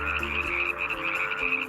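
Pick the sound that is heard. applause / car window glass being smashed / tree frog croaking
tree frog croaking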